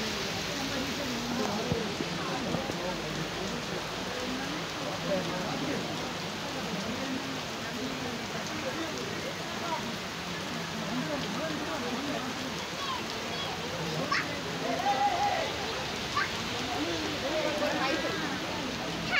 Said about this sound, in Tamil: ஊரில் பாருங்கள் பயங்கர மழை மழை பெய்யுது